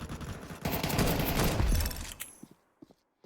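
Rapid automatic gunfire in Counter-Strike 2 Arms Race: a dense, loud burst for about two seconds, then a few scattered single shots and quiet.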